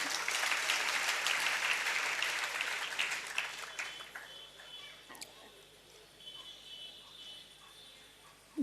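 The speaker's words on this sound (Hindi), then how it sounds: "ये ताली क्यों बजाई?" Audience applauding at a Jain religious discourse, a dense wash of clapping that is loud for the first four seconds, then thins and fades into scattered claps and murmuring.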